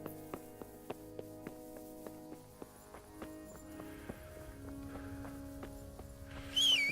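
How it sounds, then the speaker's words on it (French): Horse hooves clip-clop at a steady walking rhythm in the Kingdom Come: Deliverance video game, a regular train of sharp, moderately loud knocks over a low musical backdrop, with a brief brighter flourish at the very end. "Je vais prendre mon cheval, c'est un peu long."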